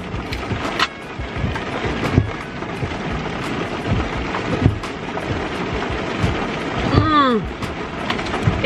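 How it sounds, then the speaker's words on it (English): Rain drums steadily on a car roof, a dense close patter with occasional louder thumps and a brief whooshing sweep near the end. "It's raining, if you can't tell."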